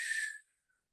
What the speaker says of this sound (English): make a little whistling sound with your breath as you inhale